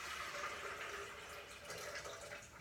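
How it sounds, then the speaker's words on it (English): Water is poured into a jug for making almond milk, a steady close rushing splash lasting throughout with no talking. "So I'm going to add a little bit of water here."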